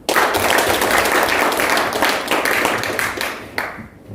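A forum audience in a hall claps loudly and continuously, dense overlapping applause that thins toward the end, with no speech over it.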